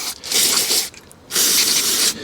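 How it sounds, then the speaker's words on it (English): Two long hissing bursts of parts cleaner sprayed from an aerosol can onto greasy pedals from a Suzuki Every DA52V turbo kei van, close up with a short pause between them. "You just spray them down with some parts cleaner and we'll be good to go."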